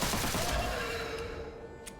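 Gunfire rattles in the video game Witchfire, a dense burst of shots loudest at the start that fades over two seconds, with a faint sharp crack near the end.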